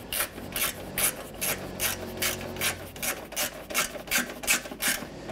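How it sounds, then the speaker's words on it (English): Radiator bolts snugged down on a 2009-2015 Honda Pilot, a rhythmic run of quick ratcheting clicks in regular bursts of about two per second, close and clear with no talk. "When you tighten these down, you just want to snug them down gently."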